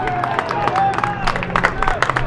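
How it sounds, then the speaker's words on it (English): Scattered applause from teammates at a men's college soccer match between Carthage and Augustana, a few quick overlapping claps at middle distance mixed with crowd murmur and commentary talk. "Earned some applause from his teammates"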